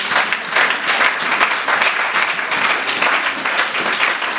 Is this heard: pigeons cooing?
no